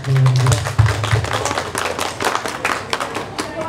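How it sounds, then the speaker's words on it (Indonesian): An audience at a talk on the creative industry claps for the panel speakers, a burst of scattered hand claps that is dense at first and then thins into sparse individual claps. "Ini bisa tepuk tangan dulu untuk ketiga"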